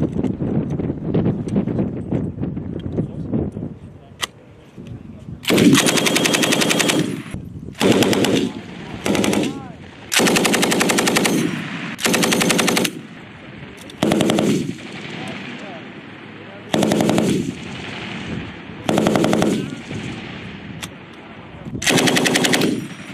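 Marines fire M240B machine guns on a training range, loud bursts of automatic fire repeating in about ten separate volleys with short gaps between them, with distant voices talking early on.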